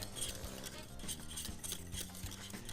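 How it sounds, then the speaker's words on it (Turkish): Cocoa mixture for crème chocolat being stirred quickly in a pot, with a steady, busy scraping and clinking of utensil against the pan, fairly close and continuous throughout. "İlk olarak hızlıca karıştırıyorum."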